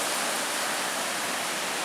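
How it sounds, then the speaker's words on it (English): Lake Superior water washing onto the shore, a steady broadband wash close at hand with no distinct waves or voices. "I just can't stop enjoying the sound of that water coming in"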